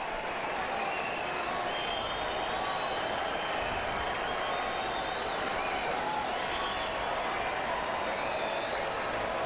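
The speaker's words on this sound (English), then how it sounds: "Fans of both teams really making a ton of noise." A loud, partisan baseball stadium crowd with fans of both teams at a night game between the Cubs and Padres, clapping and cheering in a dense, steady roar that fills the whole stretch, with faint voices mixed in.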